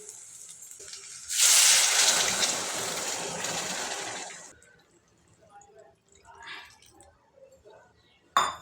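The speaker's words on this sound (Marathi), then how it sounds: "त्यानुसार पाणी घालून घ्या" Water pours into an eggplant curry with a loud gushing splash for a few seconds, then gives way to quieter wet squelching and stirring sounds.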